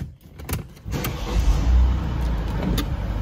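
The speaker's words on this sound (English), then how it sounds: "I'm in the car right now." A car drives along, heard from inside the cabin: a few clicks and knocks at the start give way to a steady, close low rumble of engine and road noise.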